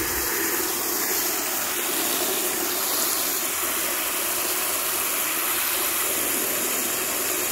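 Water from a garden hose gushes into a bucket to mix a plant-treatment solution outdoors, a steady, loud, hissing rush with no talk.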